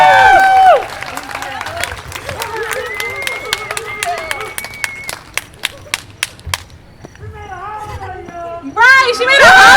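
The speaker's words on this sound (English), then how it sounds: "Give another round of applause!" An audience breaks into scattered clapping after a student presentation. Sharp individual claps ring out at an uneven pace under excited chatter and cheering voices, and the crowd noise swells again at the end.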